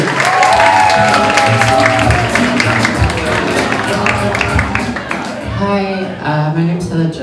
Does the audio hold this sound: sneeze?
no